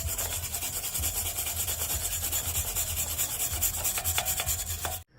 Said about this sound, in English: I just got my wire brush. Gonna clean up the hub the best I can